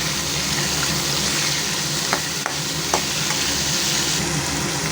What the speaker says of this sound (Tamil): கட் பண்ணி வச்ச வெங்காயம் பச்சை மிளகா தக்காளி கருவேப்பிலை எல்லாத்தையும் போட்டு தாளிச்சிக்கோங்க நல்லா வதக்கி விட்டுக்கோங்க